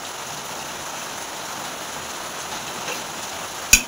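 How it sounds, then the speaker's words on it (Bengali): Heavy rain pours down steadily in a dense, even hiss that fills the whole stretch, with a brief sharp clatter just before the end. "দেখুন একবার বৃষ্টির আওয়াজটা পাচ্ছেন নিশ্চয়ই, ঝমঝমিয়ে বৃষ্টি হচ্ছে।"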